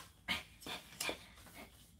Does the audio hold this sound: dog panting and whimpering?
yes